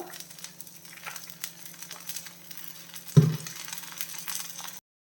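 Oats dosa crisping on a pan as a spoonful of sesame oil goes in, a soft steady sizzle with a brief louder crackle burst partway through before it settles back to a low fry.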